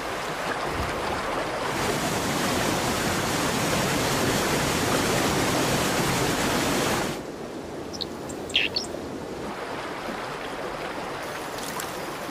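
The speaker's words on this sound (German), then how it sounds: "Das Schmelzwasser lässt auch die Bergbäche anschwellen." A mountain stream swollen with meltwater near the Königssee rushes loudly as a constant broadband roar, which drops to a softer, steadier flow partway through while a few faint chirps sound over it.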